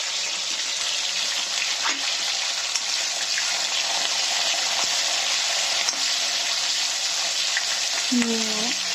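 Steady, loud sizzling and crackling of chillies frying in oil for gooseberry pickle, continuous throughout, with a short voice near the end.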